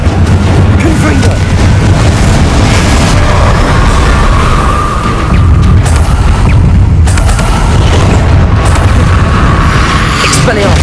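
Confringo spell blasts in Hogwarts Legacy go off as loud, booming explosions over a dense, continuous rumble of spell-combat effects, with several sharp bursts standing out along the way.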